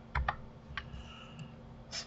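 Ctrl-P pressed on a computer keyboard during a Blender session: a couple of quick close key clicks, then a lighter tap and another soft click, all against a steady background hum.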